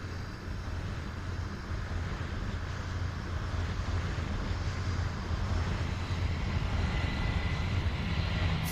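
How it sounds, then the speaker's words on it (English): Airliner takes off from runway 27 left, a broad, steady roar of jet engines and rushing wind that holds at constant loudness for several seconds with no voices. "Fly runway heading, runway 27 left, clear for takeoff"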